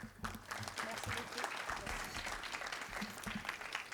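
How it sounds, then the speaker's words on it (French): An audience applauds, a dense wash of clapping from many hands that stays steady throughout, heard from a little distance with voices mixed in. "je voudrais qu'on l'applaudisse très fort"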